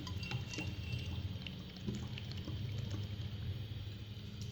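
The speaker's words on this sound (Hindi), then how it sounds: "नॉन स्टिक कढ़ाई में सबसे पहले मैं ऑयल ऐड करूँगी" Half a cup of cooking oil poured into a non-stick wok in a home kitchen, a soft continuous liquid pour with light clinks of metal or glass, fairly quiet and close, with no talking.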